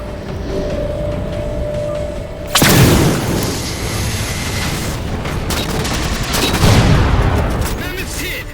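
Heavy explosions slam into a Mammoth vehicle in the video game Halo 4, a loud booming impact followed by sustained rumbling blasts and gunfire, with a second burst of explosions later.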